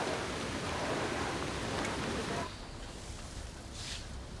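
Heavy monsoon-season rain in India, a broad continuous hiss of downpour close by that drops to a softer level partway through, with no voices.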